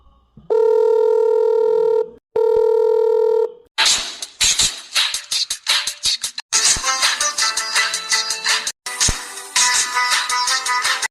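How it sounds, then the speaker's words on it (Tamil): A mobile phone ringtone plays loudly, opening with two long sustained electronic tones and then switching into a busy, bright melodic tune, with no speech over it. "ரிங்டோன் எப்போ மாறுச்சு?"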